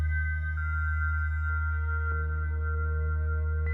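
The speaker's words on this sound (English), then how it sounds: "With the monsoon reverb on it." A synthesizer patch drones with steady sustained tones through a monsoon reverb effect, a low hum beneath bright held notes that shift pitch a few times, lush and continuous.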